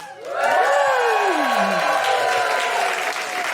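A live podcast audience at the Gilded Balloon venue during the Edinburgh Fringe bursts into loud, sustained applause and cheering, with whoops rising above the dense clapping throughout.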